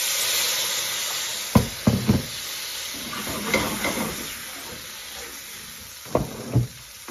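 Base gravy hits a hot pan where chicken tikka is catching on the bottom, giving a steady close hiss of frying with several sharp scrapes and clacks of a spoon against the pan, no speech.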